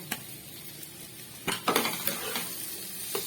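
Potatoes and cauliflower sizzle steadily in a pan for a fish curry while being stirred, with scraping stirs and clinks of a utensil against the pan close by, no talking.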